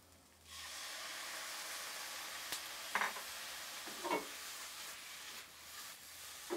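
Water poured into a hot pan of cooking food sets off a sudden loud, steady hiss of sizzling steam, with a few brief bubbling bursts over the top as it keeps cooking close by.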